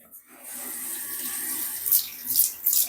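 Water running from a shower into a container in a bathroom in Osaka, a steady hiss of spray that grows louder and splashier toward the end, fairly close with no talk.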